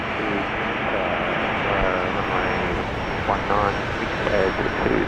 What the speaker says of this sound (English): this is Qantas Link 1905 heading off to Canberra